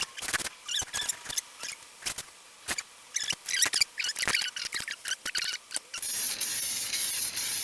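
A paint spray gun lays a metal flake control coat onto a guitar body in a series of short hissing bursts, close and fairly loud, ending in one longer continuous spray.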